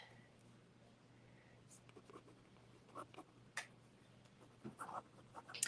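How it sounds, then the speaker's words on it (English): Pen or marker scratching on paper during hand lettering in a flower journaling art tutorial, faint intermittent strokes and taps over a low steady hum, with no talk. "So I'm just writing."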